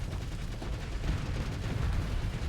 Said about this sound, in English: Auto pulse cannons.